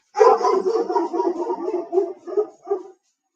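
A pit bull barks repeatedly and close by, a loud run of deep woofs that tapers into a few spaced, shorter barks before stopping.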